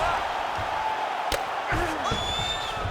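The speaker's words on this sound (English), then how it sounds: "big pop from the crowd as they get back to their feet after a pretty scintillating grappling battle there on the ground" A dense, distant crowd roar swells in a UFC fight on PS5 as fighters get back to their feet, a continuous wash of cheering with a sharp slam-like thump partway through.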